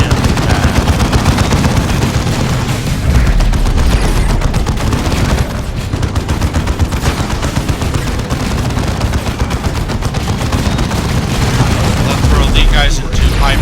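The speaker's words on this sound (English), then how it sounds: "Which I'm gonna throw a force cannon into this." A force cannon fires amid heavy combat in Warhammer 40k Dawn of War 2, with loud, dense gunfire and explosions in a continuous barrage while someone talks over it.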